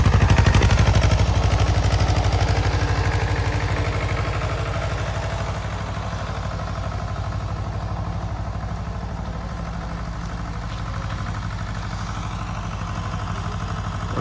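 Tractors and JCB excavators work on road construction along the new Kedarnath temple route, producing a steady, loud, low diesel engine rumble with a rapid chugging pulse that continues throughout.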